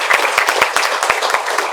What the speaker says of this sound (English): I'd like you to join me in giving them a round of applause.